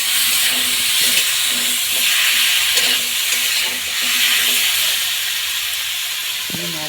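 Fish curry bubbling in a pan on a home stove, a steady broadband hiss and simmer with faint stirring clinks, continuous and close throughout.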